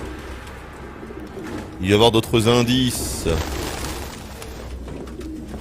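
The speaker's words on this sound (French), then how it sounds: "La vache, les pigeons." Pigeons coo and flutter in the video game Detroit: Become Human, a loud burst of overlapping bird sounds lasting about a second, with someone speaking French just before and after.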